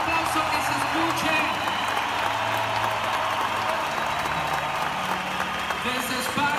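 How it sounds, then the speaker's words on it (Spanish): A large audience at a leadership talk gives loud, sustained applause, a dense unbroken wash of clapping, with faint tones and voices mixed in. "un fuerte aplauso que se escuche"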